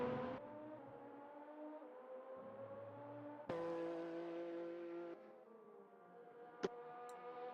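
A Porsche 911 GT1 race car engine roars in a racing video game, holding steady high revs with sharp gear changes and a renewed surge partway through, loud and close, with no talk.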